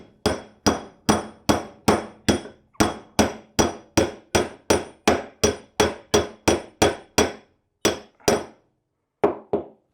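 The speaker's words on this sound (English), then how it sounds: "I'm going to use a hammer and give this a couple taps to hopefully knock out this" A hammer taps out the drive shaft of a Maytag Bravos XL washing machine: about twenty sharp, ringing metallic strikes in a steady, even rhythm, then a brief pause and a few final blows.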